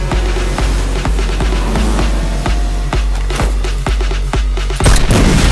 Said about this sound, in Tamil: ட்ரெய்லர்ல பாக்குறப்போ அந்த கன் ஷாட் சீன்லாம் மஞ்சு வாரியருக்கும் பக்காவா பொருந்திருக்கு